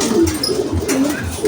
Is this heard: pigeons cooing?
yes